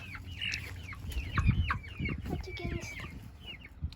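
Chickens cluck and squawk inside a backyard coop, several birds calling in short overlapping bursts at close range over a low rumble and handling noise.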